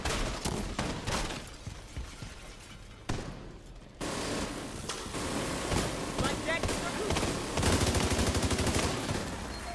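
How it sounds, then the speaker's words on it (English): A mounted gun fires in The Division shooter game with rapid, sustained bursts of gunfire layered with other shots and impacts. A voice speaks over the din as the shooting grows denser and louder. "Somebody take out the mounted gun!"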